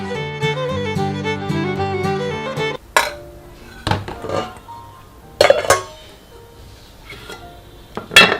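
Rice being served onto a plate with dishes and cutlery clinking, starting after a stretch of background music, then several sharp separate clinks and knocks at close range.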